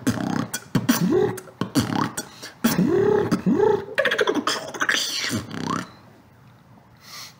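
A beatboxer vocally imitates a high-pitched synth effect, the Zhang Ze sound: a quick series of buzzy, pitch-sweeping vocal bursts in choppy rhythm, close and loud, ending in a softer breathy tail.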